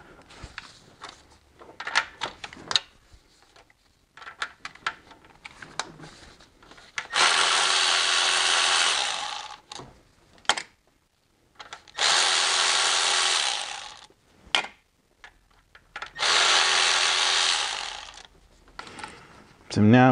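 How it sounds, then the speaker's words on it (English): Power tool driving and loosening timing component bolts on a BMW E46 with an M54 engine, three sustained whirring bursts of several seconds each separated by quieter handling clatter and clicks, close up. "I'm gonna get these bolts off next."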